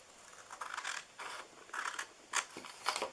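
Scissors snipping through scored paper while an Easter treat box with a peek-a-boo window is made, several close, quiet cutting strokes in short bursts with pauses between, no speech.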